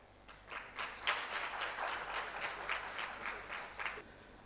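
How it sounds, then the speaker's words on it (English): Sustained audience applause at a university research week fireside chat, a steady wash of many hands clapping at moderate level for the panelists and moderator, lasting throughout without speech. "let's give a good round of applause to our panelists as well as the moderator"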